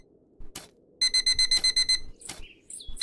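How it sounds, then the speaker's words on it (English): A night-time alarm in the video game Dig for Riches sounds as a rapid series of about eight shrill electronic beeps, loud and close, framed by a few scattered clunks and game effects. "So that's just an alarm to say it's night time."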